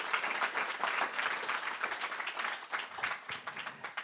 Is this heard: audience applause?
yes